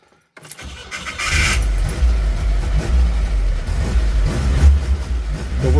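A 1960 car's engine, still cold, catches suddenly after silence and settles into a loud, rough, rumbling run with uneven blips of throttle close by.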